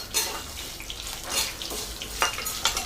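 Unpeeled garlic cloves dry-roasting in a pan, a soft hissing sizzle with bursts of rattling as the cloves are stirred and tossed, fairly quiet and close.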